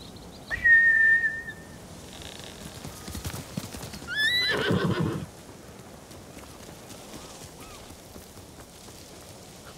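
In a video game, samurai horses' hooves clatter past as a horse whinnies loudly, followed by a brief whistle and another neigh, with a soft rain-like hiss underneath.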